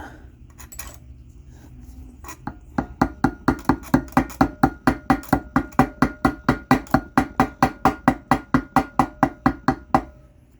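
After a few light clinks, a long even series of sharp metallic taps rings out, about three per second, close and loud with no talking, tapping a part flush on a Predator 212 engine.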